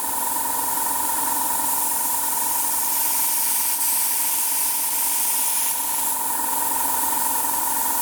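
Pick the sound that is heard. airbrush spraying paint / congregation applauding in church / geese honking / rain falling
airbrush spraying paint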